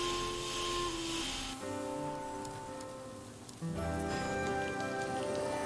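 Steady hissing rainfall in the Harvestella farming game, a continuous soft wash of falling rain layered over game music tones, with the ambience shifting partway through.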